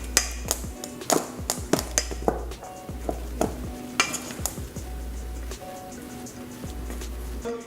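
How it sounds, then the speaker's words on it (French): Sushi rice being stirred by hand as rice vinegar and dissolved sugar are mixed in, giving a series of close, soft taps and scrapes of a utensil against the bowl under a steady low hum. "Maintenant on va y incorporer le vinaigre de riz avec le sucre"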